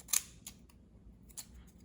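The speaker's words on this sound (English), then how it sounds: "Decal scissors that I've had since, you know, old scrapbooking days." Decal scissors snip paper in a few crisp, quiet cuts, three or four sharp clicks spaced apart against a hushed background.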